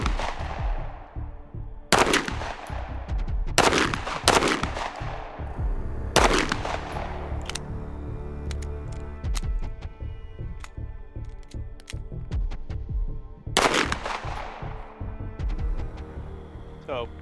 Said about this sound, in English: So I'm basically shooting as fast as I can actually see through the smoke.